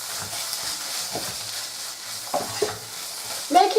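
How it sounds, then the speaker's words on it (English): Keema with turmeric and spices stirred in a frying pan: a steady background sizzle with soft scraping strokes of the spoon, a few louder clinks near the end, no talking. "So what I'm going to do now is to stir everything together."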